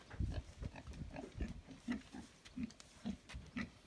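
Pigs grunting and shuffling in a village pen, a run of short low grunts and snorts repeating every half second or so at close range, with no voices over them.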